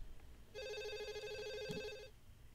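A telephone rings in the horror film Scream, a steady electronic trill starting about half a second in and lasting roughly a second and a half, clear and mid-loud over a low room hum, with no talk.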